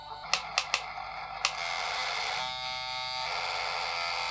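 A few sharp mechanical clicks, then a faulty instant photo printer whirs and buzzes steadily with a raspy, grinding motor tone.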